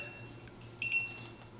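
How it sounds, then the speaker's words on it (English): A backup pump running alarm on an iControl pump control panel sounds one short electronic beep, a steady two-tone chirp lasting about a quarter second, fairly faint over a low background hum. "So now it's beeping again, everything turns red."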